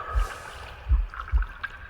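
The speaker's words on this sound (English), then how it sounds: "The gurgling of water" Soft bubbling and gurgling water in The Last Campfire, with a few low burbling pulses over a quiet, faintly ringing ambient tone.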